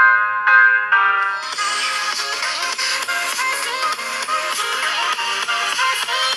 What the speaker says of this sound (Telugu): లౌడ్ స్పీకర్ కూడా మీకు ఫస్ట్ ఇంప్రెషన్ అయితే లౌడ్ ఉంది